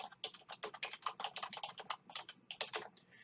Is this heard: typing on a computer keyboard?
yes